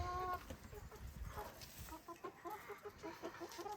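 Chickens on an Australian homestead cluck in quick, repeated soft bursts as they are fed mealworms, a faint, close flock sound without talk.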